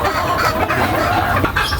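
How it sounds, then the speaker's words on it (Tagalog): Pet broodcock hens cluck steadily and close by, several birds overlapping in a busy, continuous murmur of short calls with no talking. "Alagang manok yung mga broodcock ko dito"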